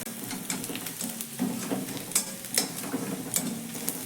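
Food fries in a pan for a healthy homemade tiffin snack, giving a soft continuous sizzle broken by light scraping and stirring taps, heard close with no talking.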